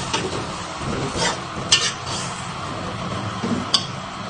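Tomato sauce stirred in a pot after about a cup of hot water is added, for Bukhari chicken rice; soft scraping and bubbling simmer with a few sharper spoon clinks against the pot, no talk.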